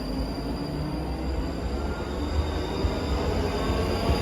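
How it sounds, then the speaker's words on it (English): A ScotRail train from Edinburgh Waverley to Helensburgh Central departing Haymarket station, a steady broadband rumble of wheels on track with a faint high whine, continuous and fairly loud without voices. "Departing out now is the 1512 ScotRail service from Edinburgh Waverley to Helensburgh Central."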